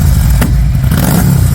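A motorcycle or scooter roars loudly on a street, its engine revving hard with a rough, clattering exhaust and a sharp burst near the start, sustained and close throughout.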